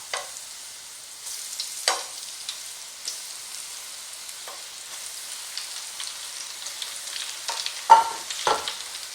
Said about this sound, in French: je fais frire mes aubergines, mes bâtonnets d'aubergines dans une huile chaude à 180